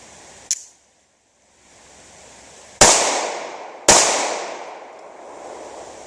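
Ruger LCP II pistol firing Federal Hydra-Shock rounds: a sharp crack, then after a pause two loud close shots about a second apart, each ringing off with a long echoing decay outdoors.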